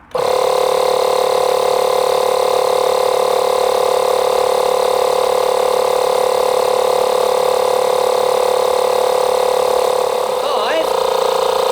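A Makita MP100DZ cordless inflator runs without a break, giving a loud, steady motor drone with a pumping buzz. It stays close and unchanged until a brief shift near the end.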